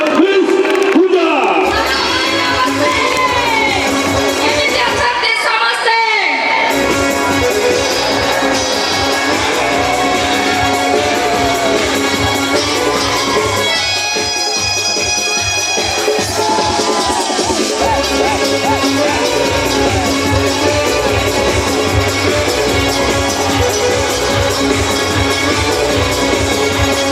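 Loud crowd at a jatra remix dance program in Odisha, cheering and clapping to welcome a performer; dense, sustained noise with music underneath, a brief dip midway, then continuing steadily.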